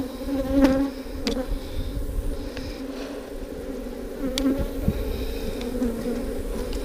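Honeybees buzzing steadily at close range while a hive is opened for inspection, a dense continuous drone with a few brief louder passes of individual bees and no talking.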